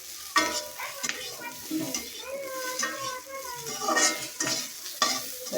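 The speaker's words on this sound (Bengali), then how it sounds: "তো এটা আমি সব একসাথে মিক্স করে নেব।" A spatula stirs and scrapes fried pointed gourd (potol) around a sizzling pan in a village kitchen, with repeated close scraping strokes over a steady frying hiss.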